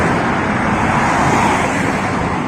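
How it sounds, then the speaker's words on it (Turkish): Cars stream along Ankara Avenue during a quarantine evening, a loud, continuous roar of road traffic with no gaps and no voices. "Arabalar Ankara Caddesi'nde vızır vızır geziyor."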